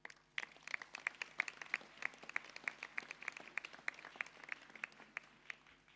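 An audience at a French municipal speech claps in a scattered, fairly thin round of applause, individual hand claps distinct and moderately distant, continuing steadily without talk.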